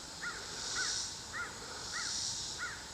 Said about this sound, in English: A few crows are singing.